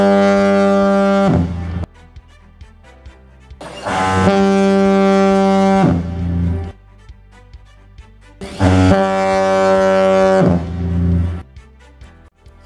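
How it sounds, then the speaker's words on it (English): The Low Head lighthouse foghorn in Tasmania, installed in 1929, sounds three long, deep, powerful blasts, each about two seconds, separated by pauses, loud and resonant. "Tasmania's only working foghorn was installed in April 1929"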